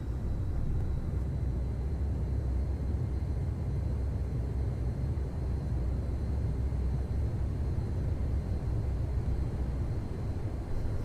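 Steady, loud jet engine roar from an aircraft powering up for a carrier takeoff in Flight Simulator X, a continuous low rumble that holds evenly throughout with no voices.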